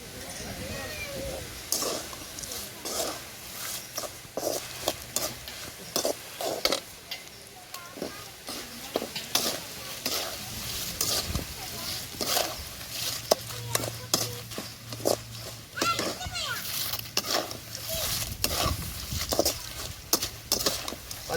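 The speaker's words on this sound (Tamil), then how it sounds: "மிளகா நல்லா வறுத்து போச்சு" Dried red chillies fry in a pan for puliogare, a Perumal Koil-style tamarind rice, with crackling sizzle and frequent scraping stir strokes throughout while a voice talks intermittently.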